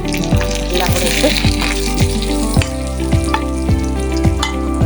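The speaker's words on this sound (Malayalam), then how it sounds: "ചെറിയ ഉള്ളിയും കൂടെ വറുത്ത് പോവുക" Small shallots fry in hot oil in a pan with a steady, loud sizzle, while a utensil stirs and scrapes against the pan in a regular rhythm.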